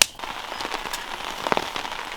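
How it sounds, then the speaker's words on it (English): Rain pattering on a camp tarp in spring in Algonquin, a dense steady patter of drops with scattered sharper taps, close and fairly even, no voices. "Rain started coming down just as we were about to eat."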